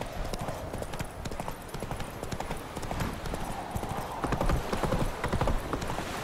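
Horse hooves gallop in The Witcher 3, a continuous fast clip-clop of hoofbeats over a steady rumbling bed of game ambience, close and constant throughout.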